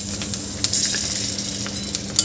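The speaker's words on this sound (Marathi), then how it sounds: "मी याला छान परतून घेते काही वेळ" Green chillies, garlic and peanuts sautéing in a pan for mirchicha thecha: a continuous close sizzle and crackle with occasional sharp pops and light stirring scrapes, no speech.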